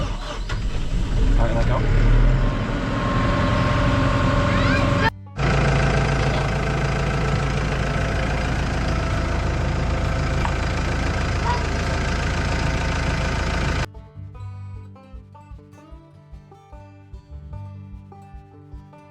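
A frozen tractor engine cranks, catches and settles into a loud, steady idle that runs for most of the stretch before cutting off abruptly, with people talking over it near the start.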